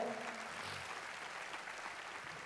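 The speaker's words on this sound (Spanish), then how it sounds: "Démosle un fuerte aplauso" A church congregation claps in a steady, soft wash of applause that carries on for the whole stretch, heard at a distance without any talking.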